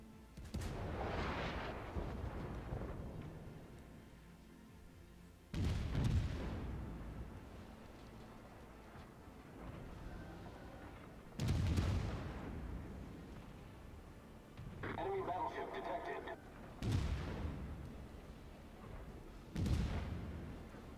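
Heavy naval guns boom in a warship battle game, five or six deep, rumbling blasts spaced a few seconds apart, each trailing off into a long low roll, with a brief mechanical clatter between them.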